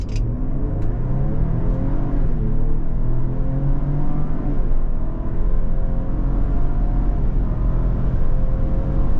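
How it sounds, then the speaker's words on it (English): A 2023 Lincoln Aviator with a 400-horsepower 3-liter EcoBoost engine pulls hard down the road, a continuous loud engine drone rising in pitch as it accelerates, with road and wind noise underneath. "The 400 horsepower out of this 3-liter EcoBoost is insane, the way it pulls down the road."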